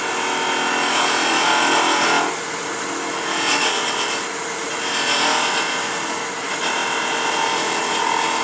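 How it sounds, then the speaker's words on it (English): A thin parting tool cutting into a wooden coffee scoop spinning on a lathe, a continuous close scraping hiss that shifts in intensity as the tool bites and eases off. "I'm going to use my thin parting tool"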